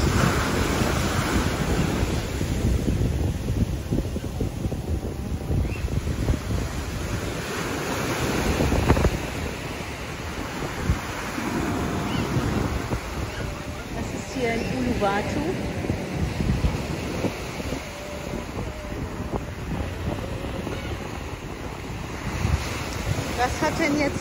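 Ocean waves roll onto a quiet Bali beach in a continuous roar of surf, mixed with heavy wind buffeting the microphone, while a person talks over the sound throughout.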